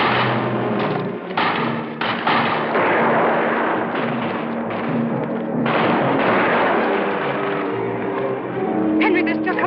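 Rifles fire a volley in a 1962 film, loud dense cracks and thumps piling into a continuous barrage, with shouting voices mixed in beneath.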